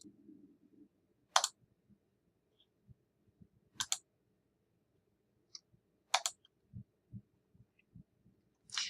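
Computer mouse clicks on a scheduling website, a few sharp isolated clicks spaced apart over a quiet background with faint low thumps.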